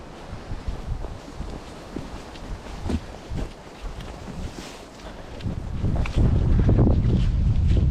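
Wind gusting through an isolated forest, a steady broadband rush with rustling bursts that swells louder toward the end, heard close with no voices.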